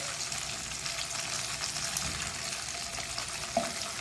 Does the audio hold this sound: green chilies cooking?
yes